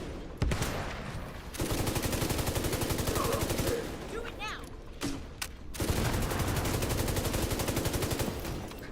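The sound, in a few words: gunfire from L86 rifle in The Division video game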